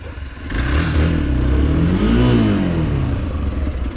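A Hero XPulse 4V motorcycle engine revs steadily on wet, slippery frosty ground, a loud close mid-pitched drone that rises and falls as the throttle is worked.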